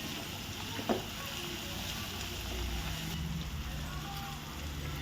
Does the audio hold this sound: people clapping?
no